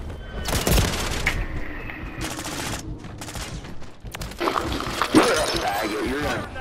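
Gunfire and sniper shots in a Call of Duty match crackle in dense, overlapping volleys at moderate loudness, with sharp reports and a brief louder hit near the end amid game noise.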